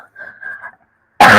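A single loud, sharp cough bursts out close to the microphone right after a short stretch of faint murmuring and a pause.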